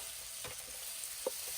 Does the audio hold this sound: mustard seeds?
yes